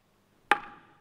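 A single sharp wooden gavel strike at a Thoroughbred yearling horse auction in Hokkaido, one loud close crack followed by a brief ringing decay in an otherwise quiet room.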